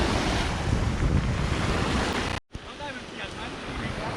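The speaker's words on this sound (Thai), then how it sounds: "โอ้มีคลื่น" Ocean waves washing against the rocky shore of Tanode Cape on Lanta Island, a loud continuous surf roar with heavy wind buffeting, briefly cut out mid-clip before resuming a little softer.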